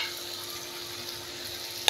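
Masala frying in oil with cumin powder and garam masala added, a steady close hiss of sizzling under faint stirring, ending with a brief sharp scrape.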